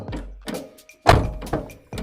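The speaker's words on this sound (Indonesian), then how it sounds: "Pintu juga masih ketara banget enaknya dibuka dan ditutupnya." A 1996 Suzuki Sidekick 4x4 car door is worked open and shut, giving a sequence of dull thunks and latch clicks, one solid heavy closing thump in the middle, heard close by.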